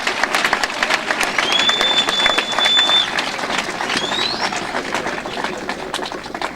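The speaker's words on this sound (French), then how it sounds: "Bobetela bango maboko makasi." Loud crowd applause and clapping fills the space, with some cheering voices mixed in, fading slightly toward the end.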